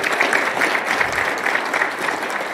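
Steady applause from a crowd, dense clapping that holds at an even level throughout with no talking.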